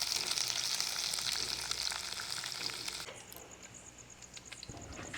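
Onions dropped into a hot spice tempering and gently stirred, a bright continuous sizzle that is loud at first and eases after a few seconds, with scraping stir sounds close by.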